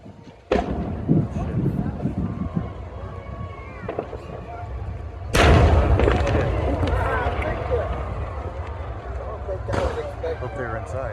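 Loud fireworks finale bursts at a Tulsa fireworks show, with sharp booming explosions near 0.5, 5.3 and 9.8 seconds over a continuous rumbling crackle, while people talk nearby.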